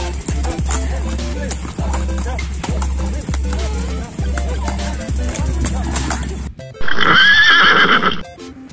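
A loud, high whinny rings out near the end, after a stretch of steady hooves and rhythmic thumping sounds.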